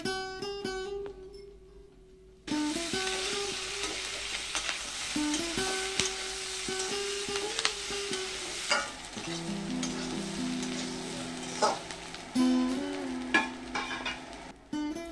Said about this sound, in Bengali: ডুমুর আলুকে খুব ভালোভাবে কষে নিতে হবে।